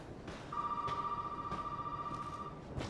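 A telephone rings inside a house in the video game Resident Evil 7, one long, steady electronic tone that holds for about two seconds over a faint room hum and a few soft clicks.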